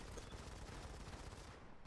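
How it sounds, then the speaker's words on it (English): A close-quarters exchange of gunfire in the mobile shooter Modern Combat 5 during a tournament match: dense, continuous rapid shots blurring into a steady roar with no pauses. "This exchange of gunfire up in close quarters could change that though"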